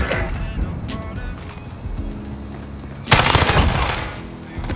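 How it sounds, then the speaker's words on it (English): Rapid automatic gunfire in Call of Duty Modern Warfare search-and-destroy play, bursts of close shots with a louder, denser volley near the end, over background game noise. "Just keep shooting. Never stop shooting."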